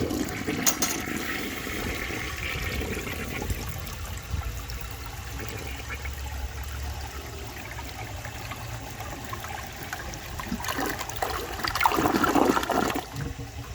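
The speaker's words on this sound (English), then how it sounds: "So I'm going to give this another flush and rinse that last little bit of dirt off," A toilet being flushed again to rinse away leftover dirt: a steady rush of running water for many seconds that swells louder and gurgles near the end, close by, with no voices.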